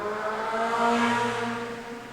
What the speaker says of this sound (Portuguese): Passou uma moto esguelando, mas não tem problema, isso acontece.